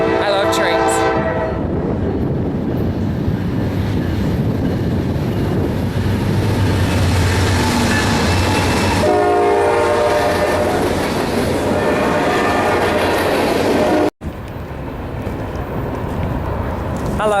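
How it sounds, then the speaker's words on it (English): A freight train rolls past in Lebanon, Pennsylvania, loud and close, its horn blaring in long blasts over a continuous rumble and clickety-clack of wheels that fills the whole stretch. "We got a train. Check this out. I love trains."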